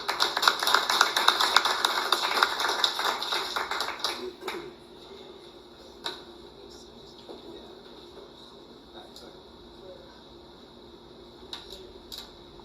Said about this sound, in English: Give another round of applause for Scott Edwards.